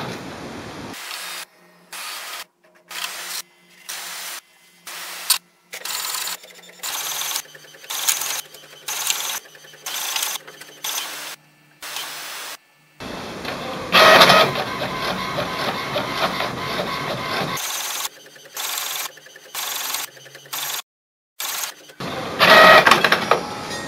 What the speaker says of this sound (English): and the printer will start copying the document.